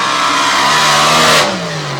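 A blown alcohol mid-engine rail on paddle tires racing through mud at a drag event: a loud, sustained engine roar that climbs in pitch, then drops away sharply near the end.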